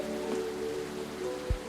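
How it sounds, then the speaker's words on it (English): Steady rain patters in the video game Coffee Talk, a soft continuous hiss with a faint low thump near the end. "No, Bill Nanigan, a little rain won't hurt me"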